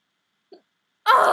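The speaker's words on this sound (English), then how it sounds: "How long do hiccups last?" A person has hiccups: a faint small hiccup, a short pause, then a louder, abrupt hiccup with a breathy burst, alone in near silence.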